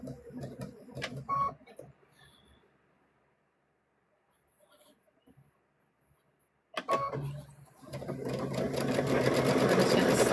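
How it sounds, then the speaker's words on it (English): A sewing machine back stitching the seam of a stuffed bear runs in short bursts of rapid stitching, pauses through a long quiet stretch, then starts up again and runs steadily and loud at the end. "We're just going to stitch all the way around here, guys."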